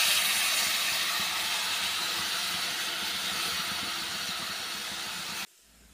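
Soaked dal tipped into a pan of sizzling onion masala gives a loud, steady hiss of steam and frying that runs almost unbroken for over five seconds, then cuts off suddenly near the end.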